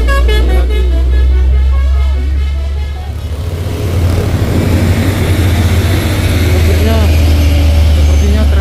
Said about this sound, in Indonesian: Sepertinya trailer Hino tidak melanjutkan penarikannya bosku